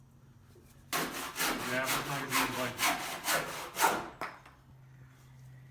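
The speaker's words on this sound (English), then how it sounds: "The jigsaw's not very good at cutting straight, so we've swapped to this saw, whatever this saw's called." A hand saw cuts through wood blocks with about nine quick, rhythmic back-and-forth rasping strokes, close and clear, followed by quiet.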